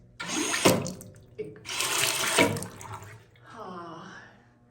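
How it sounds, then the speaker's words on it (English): Toilet flushing in a campground restroom: two loud bursts of rushing water close by, followed by a fainter gurgling, tonal refill as the bowl drains. "But at least the toilets do flush."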